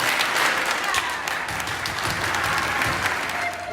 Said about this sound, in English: If you're happy and you know it, clap your hands.